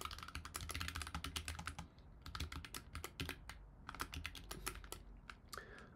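Close, quiet clatter of fingers typing code on a computer keyboard, a fast, uneven run of keystrokes with brief pauses, with no talk.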